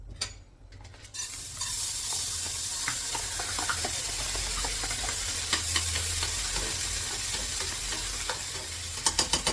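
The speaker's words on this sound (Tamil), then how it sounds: "ஸோ இப்போ இந்த பருப்பை நம்ம வறுத்துடலாம்" Washed lentils (dal) roasting in a hot pan give a steady, close dry sizzle and hiss for several seconds, with occasional scraping stirs and a few sharp clinks of a spoon against the pan near the end.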